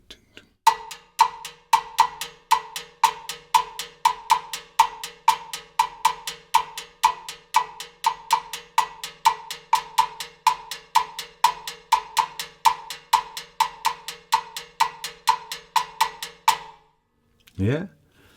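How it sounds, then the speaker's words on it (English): A wood block taps out a bossa nova pattern in a steady, even run of sharp, bright clicks with an accented repeating rhythm, played alone and close, ending with a brief low sound. "You can play this on your wood block, and it sounds like this."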